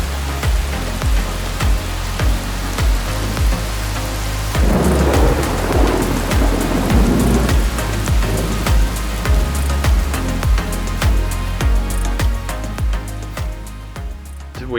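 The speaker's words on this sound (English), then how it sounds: "the rain has started and there's thunder and lightning everywhere" Heavy thunderstorm in Moalboal, Cebu, with steady loud rain pouring on surfaces and thunder rumbling and cracking repeatedly, no voices, a dense continuous roar.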